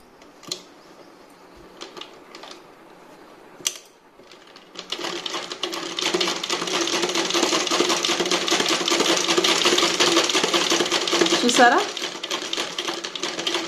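A few light handling clicks, then a sewing machine starts up and runs in a steady, loud whir, close by, as a fall is stitched onto a saree; a brief rattle sounds near the end.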